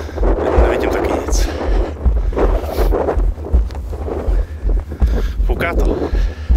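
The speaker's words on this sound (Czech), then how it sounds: "Fouká to." Gusty outdoor wind buffets the microphone in low rumbling bursts at night, loud and uneven, with people talking over it.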